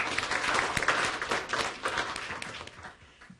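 An audience at a university lecture gives a round of applause, a dense wash of clapping that swells quickly and then slowly tapers off.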